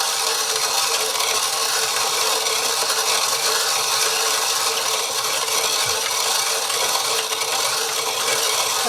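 Coffee beans are ground in a hand mill, giving a continuous gritty, rasping crunch that stays close and even throughout without a break.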